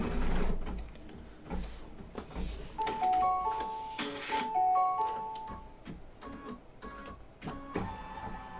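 An embroidery sewing machine stitches down an appliqué on a patchwork pets quilt block, running steadily with rapid mechanical ticking and faint beeping tones, with no talk.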